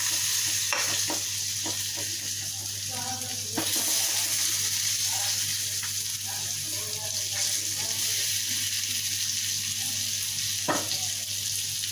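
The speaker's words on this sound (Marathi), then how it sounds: "आता हे वांगी घालायचं त्याच्यामध्ये फोडणीमध्ये." Eggplant sizzles in a hot spiced tempering with masala and a little jaggery for a stuffed brinjal curry. A utensil scrapes and stirs the pan at irregular moments over the steady frying hiss.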